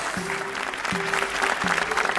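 Loud, dense applause comes from a game show studio audience and continues throughout. Three short, deep electronic tones sound at regular intervals beneath the clapping.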